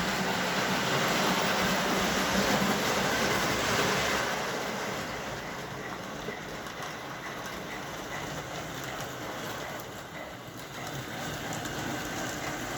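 Steady broadband rumble and rattle of a model steam train running on track at 14 volts, continuous and fairly loud throughout, rail noise drowning out any distinct puffing beats.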